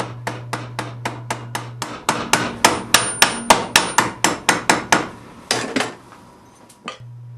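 Rapid, evenly spaced hammer blows ring on a hot iron chest hinge, about twenty strikes in a steady rhythm that slows and fades, over a low hum.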